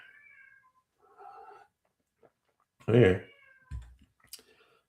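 A cat meows at a closed door at home, one loud, close cry standing out among quiet room sounds, with a few faint clicks and a short spoken word nearby.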